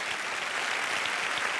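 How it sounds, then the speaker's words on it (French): Steady applause from a comedy-show audience during a stand-up set, a dense, even wash of clapping that holds at the same level throughout with no voices over it. "On peut les applaudir"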